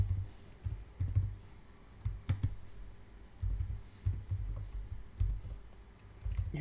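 Quick bursts of keystrokes on a computer keyboard, close and fairly quiet, with short pauses between runs and one sharper click partway through.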